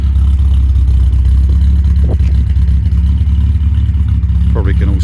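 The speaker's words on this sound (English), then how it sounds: "can also hear that the car ticks over nicely" An MG MGC GT's engine ticks over at a smooth, steady idle, a loud close low rumble that holds constant throughout.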